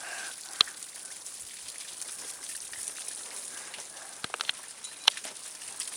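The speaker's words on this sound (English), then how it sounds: "It's raining hard." Hard rain falls steadily in a broad, even hiss during a storm, with a few sharper drip or splash clicks scattered through and no voices.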